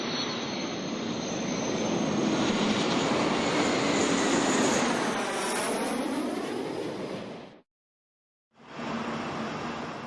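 A Boeing 787 Dreamliner's jet engines roar loud and steady with a rising whine, cut off abruptly for a moment of silence before the roar resumes, no voices present.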